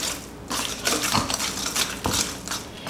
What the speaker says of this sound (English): Now add this yummy chocolate mixture to the flour mixture. And mix well using your whisk.